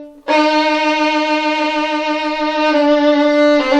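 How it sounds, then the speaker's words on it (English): A single sustained instrumental note played with narrow, fast vibrato, rich in harmonics and steady in loudness, holding for several seconds with slight shifts in tone partway through, close and alone. "what happens if I do narrow and fast vibrato?"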